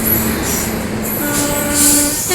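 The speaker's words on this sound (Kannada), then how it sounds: "ಈಗ ನಾವು ಜಿಂಗ್ ಮಾಡ್ತಾ ಇರೋ ಟ್ರೈನ್ ವಿಜಯಪುರ ಟು ಮಂಗಳೂರಿಗೆ ಸೆಂಟ್ರಲ್ಗೆ ಹೋಗೋ ಎಕ್ಸ್ಪ್ರೆಸ್ ನೋಡ್ರಿ ಇದು" An Indian Railways express from Vijayapura to Mangaluru Central passing close by, loud rolling wheels and carriage rumble with high metallic squeals and tonal whines, no talk.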